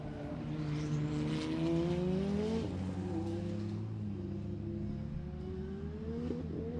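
Rallycross cars race down the main straight at Mondello Park, among them a diesel-powered BMW: loud engines rise in pitch through several gear changes, with a faint distant commentary voice beneath the engine noise.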